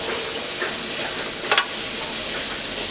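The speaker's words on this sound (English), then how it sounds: "Yeah, you can hear that sizzle." Ground beef sizzles steadily in a hot pan, a constant bright crackling hiss with a brief scrape partway through.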